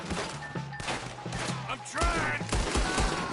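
Gunfire crackles in a Red Dead Redemption 2 shootout around a wagon, scattered shots giving way to a denser run of loud, close reports, with someone shouting briefly.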